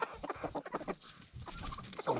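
A rooster clucks in short, soft bursts close by on cold nights.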